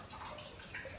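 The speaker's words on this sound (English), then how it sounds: "I'm gonna sit down here for a minute so you can hear the water in the background as I talk" Hot spring water flowing steadily at a Japanese hot spring resort, a soft continuous wash with faint trickling, alone and without talk.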